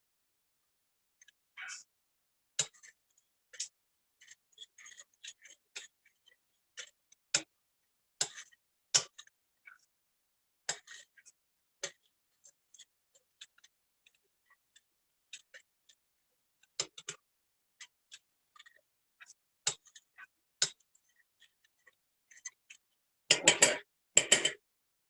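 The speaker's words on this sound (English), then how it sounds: "Now I'm going to stir that up a little bit." A spoon stirs salt into water in a cup, giving a long run of light, irregular clinks against the sides, quiet and close, with a brief spoken word and a louder rattling flurry at the very end.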